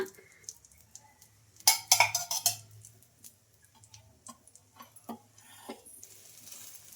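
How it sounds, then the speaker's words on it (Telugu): Moong dal and oats dosa cooking in a pan as oil is added around the edges, with a burst of sizzling followed by scattered soft ticks, scrapes and spatula clicks up close, and no talk. "ఇప్పుడు ఆయిల్ కూడా వేసుకోవాలండి సైడ్లకు మొత్తం దోశ పైన"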